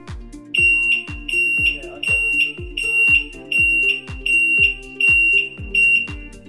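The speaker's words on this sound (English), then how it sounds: "This making that noise is signaling to us that there's not enough pressure." A low-vacuum warning alarm on a vacuum lifter, sounding with the ignition on and the engine off because pressure is too low, beeps in a steady rapid series of loud, close, pulsing electronic tones with a low thumping undertone.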